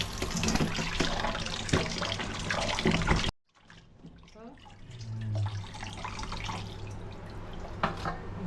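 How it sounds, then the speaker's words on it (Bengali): Raw beef rinsed under a running kitchen tap: water rushes and splashes, cuts off briefly for a moment, then resumes with drips and trickling close by. "প্রথমে গোশতটাকে ভালো করে ধুয়ে নিতেছি।"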